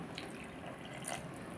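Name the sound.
water added to moringa chip batter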